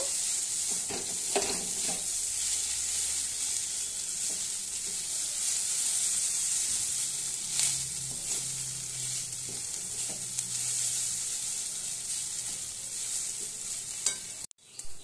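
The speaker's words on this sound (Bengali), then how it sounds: "আর একটু তেলও আমি ছড়িয়ে দিয়ে আর একবার ভাজা ভাজা করে আমি এটাকে নামিয়ে নেব।" Neem leaves and potatoes fry in oil in a pan while being stirred, a constant sizzle broken by scraping strokes and occasional clinks, ending in a sharp knock.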